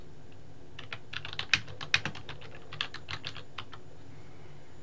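Someone types on a computer keyboard in a quick, uneven burst of clicky keystrokes with a couple of louder taps. The keys sound fairly close over a quiet background.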